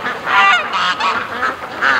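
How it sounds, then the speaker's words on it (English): Ducks on a lake calling in a run of loud, nasal honking quacks that come in several overlapping bursts, fairly close and continuous. "We definitely have a whole bunch of happy ducks."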